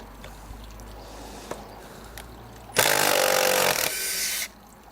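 Impact drivers driving screws, first a faint standard driver in brief taps, then a loud near burst from a Hikoki hydraulic impact driver lasting about two seconds before cutting off.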